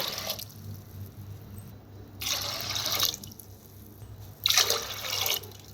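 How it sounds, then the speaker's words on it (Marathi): Water pours in two separate bursts into a vessel of washed lentils, each a few seconds long, splashing close by against a quiet background. "तीन गलसात पाणी ओतले बघा ह्या गलसानं"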